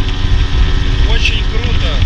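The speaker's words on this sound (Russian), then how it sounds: "теперь плывем на катере по реке Колорадо" A motorboat engine on the Colorado River drones with a steady low rumble close by, while a voice speaks faintly over the noise.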